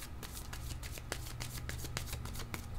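Playing cards are shuffled and handled from a deck during a tarot-style card reading, giving a steady run of quick papery riffles and flicks, close and clear, with no talking.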